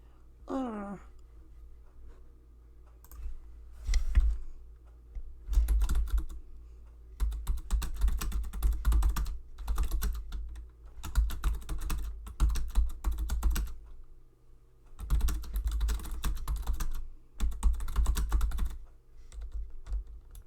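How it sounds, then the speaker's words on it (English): Computer keyboard typing in irregular bursts of rapid key clicks with short pauses between, fairly close and clear over a low steady hum, no talking. "then I can quit typing"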